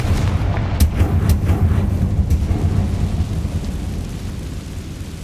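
A Confringo blasting spell erupts in the Hogwarts Legacy video game, a loud, deep rumbling explosion with a few sharp cracks early on, then a sustained roar that slowly fades.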